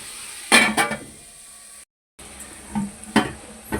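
Tomato masala gravy for restaurant-style karahi gosht sizzles in a karahi while a spoon scrapes and stirs it, giving several loud close scraping bursts over a low hiss, with a short silent gap midway.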